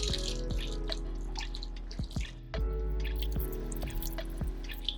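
Water runs steadily from a tap while hair is rinsed during a home hair wash, a constant splashing flow with scattered drips and a faint low hum.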